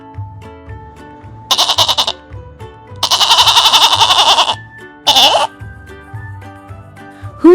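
A goat bleats loudly and up close in several wavering, quavering calls, one short, one long and one brief burst, separated by a soft music bed playing underneath.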